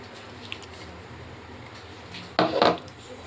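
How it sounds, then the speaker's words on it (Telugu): Grated coconut tipped into a pan on the stove, a brief burst of scraping and rattling against the pan near the end, following quiet near-silence. "ఇప్పుడు ముందుగా మనం మిక్సీ పట్టుకున్నాం కదా కొబ్బరి కూర, ఈ కొబ్బరి కూరన ప్యాన్లో వేసుకుందాము."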